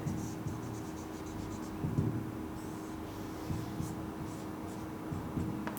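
Chalk or marker strokes on a classroom board during a physics lecture on electric dipoles, a steady scratchy writing sound in short repeated strokes, fairly close and moderately quiet, with no talking over it.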